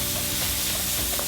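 Seasoned vegetables cooking down in a pan for Philly cheesesteak egg rolls give off a steady, loud sizzle and frying hiss, up close, with faint stirring.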